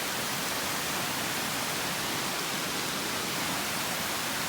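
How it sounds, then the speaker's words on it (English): A mountain cascade pours down the side of Ramrock Mountain on the Appalachian Trail in Georgia, a steady, even rush of water with no voices. "Coming down the side of Ramrock Mountain, this beautiful cascade."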